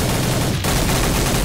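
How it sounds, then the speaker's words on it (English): BFG weapons firing in a multiplayer video game boss event, a dense, continuous barrage of loud blasts and explosive noise filling the whole clip, with a brief dip midway before the onslaught resumes. "Someone's shooting BFGs at it."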